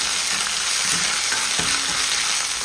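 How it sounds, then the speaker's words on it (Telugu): Crushed ginger and green chillies fry in hot oil for a tamarind pulihora tempering, a steady close sizzle with a few soft stirring scrapes and no talk. "ఇప్పుడు ఇందాక కచ్చాబచ్చగా దంచుకున్న అల్లం, పచ్చిమిర్చి ఉంది కదా, దాన్ని అందులో వేసేసుకుందాం. వేసుకొని ఫ్రై చేసుకోండి."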